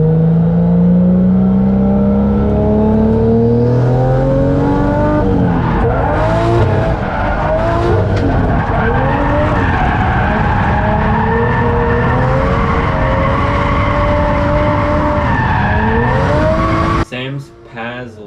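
Nissan 240 drifting, its engine revving hard as the tires squeal through long slides, loud and close, ending in an abrupt cut.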